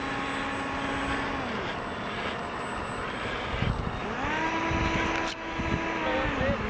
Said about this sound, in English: the 4 aircraft are holding short of the runway, and Jim is asking